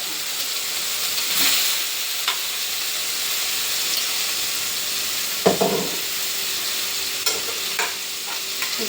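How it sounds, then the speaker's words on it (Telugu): Chicken frying in oil in a pan for a chicken gravy, a steady close sizzle and hiss with a few louder stirring scrapes and clinks partway through, no voices. "చికెన్ వేసేసి ఇప్పుడు ఫ్రై చేయండి."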